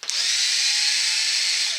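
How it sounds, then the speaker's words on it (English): A power drill on an RC car (CEN Racing F450 Dually) runs continuously at high speed driving screws into plastic, a steady close whine that rises and holds for nearly two seconds with no talk. "So I got the drill"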